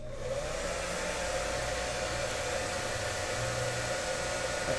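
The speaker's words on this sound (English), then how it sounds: "then we'll just use the blow dryer, stick a little heat on this sucker." A blow dryer heating a sticker runs steadily and fairly close, a continuous whooshing blast of air with a low motor hum, no voices.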